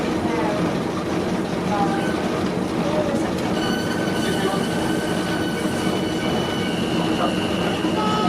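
A heritage train on the Great Central Railway rolls past close by, a steady loud rumble of wagons with metallic wheel squeal and faint clicking rail joints, while people talk in the background.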